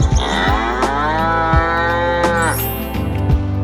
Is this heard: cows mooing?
yes